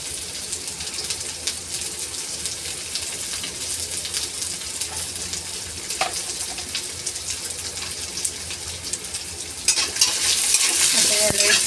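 Radish and chopped radish leaves sauté in hot oil and are stirred, giving a steady, close sizzle and frying crackle throughout, with a brighter, louder hiss in the last couple of seconds.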